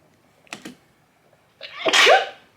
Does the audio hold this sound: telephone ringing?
no